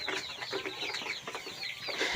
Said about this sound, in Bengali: এটা একটা কক মুরগির খামার